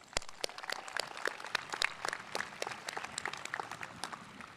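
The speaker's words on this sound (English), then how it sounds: "So let's give ourselves a round of applause." Graduates at a high school graduation ceremony applaud themselves with a scattered, lively clatter of many hands clapping, individual sharp claps standing out over a softer background of applause.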